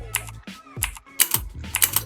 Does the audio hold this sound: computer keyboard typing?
yes